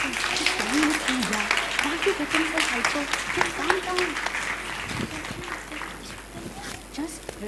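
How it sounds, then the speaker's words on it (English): A crowd applauds steadily with dense, continuous clapping while a voice carries on over the noise. "Please give a round of applause"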